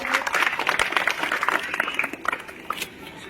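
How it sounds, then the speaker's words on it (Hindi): Crowd clapping during a felicitation ceremony honoring a village head; steady applause for about two and a half seconds, then thinning out as a voice carries on over it. "तो सम्मान करते हुए जोरदार ताली बजनी चाहिए।"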